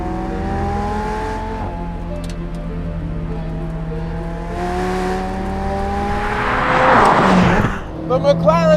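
An Audi TT sports car is driven off, its engine note rising and shifting through gears before swelling into a loud, rushing burst near the end, with people talking over it.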